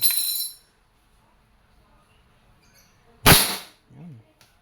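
A Crosman SNR 357 dual-ammo airgun fires two sharp, loud cracks several seconds apart, the first at the very start and the second followed by a brief lower thud, with near silence between.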